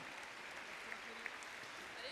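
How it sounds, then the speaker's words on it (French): Faint, distant crowd applause for German show jumper Daniel Deusser winning the CSI5*W Prix Antares Sellier on Bingo de Saint-Hermel, a steady soft wash of clapping throughout. "restez là pour applaudir Daniel"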